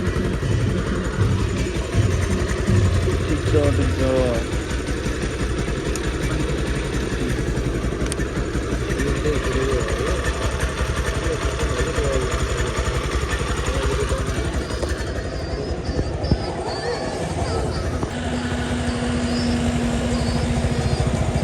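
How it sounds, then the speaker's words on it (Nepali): A just-repaired motorcycle, fixed after a burst pipe, idles steadily and closely for about twenty seconds with a rough, clattering tone. Someone briefly speaks over it. "ल त मेरो बाइक बनिसक्यो फाइनली"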